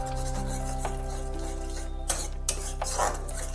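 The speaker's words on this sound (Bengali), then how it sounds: "ভালোভাবে মশলাকে কষাতে হবে।" A spoon stirs frying masala in a pan on a low gas flame, a steady sizzle with soft scraping and a few sharper metallic scrapes, no voices.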